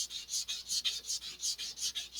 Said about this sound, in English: I'm trying to raise the fin up here a little bit too, because I feel like the angle that I'm sanding is too shallow.